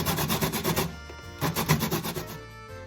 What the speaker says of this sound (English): I'm going to use this part of the grater.